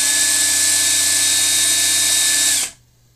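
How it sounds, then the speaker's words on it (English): An electric drill bores a hole through a PCB, a loud, steady high-pitched whine held close for over two seconds before it cuts off abruptly into near silence. "so I'll start the drill slowly and then speed it up"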